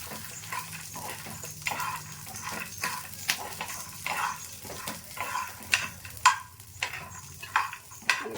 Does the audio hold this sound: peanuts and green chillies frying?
yes